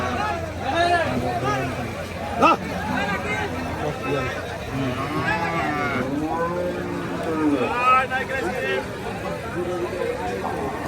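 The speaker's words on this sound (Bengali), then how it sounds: "আজকের হযরতপুর হাটে খুব সুন্দর সুন্দর শাহিওয়াল গরু উঠছে" Sahiwal cattle low repeatedly at the busy Hazratpur cattle market. Their long, wavering moos overlap one another over a steady crowd hubbub, with people talking throughout.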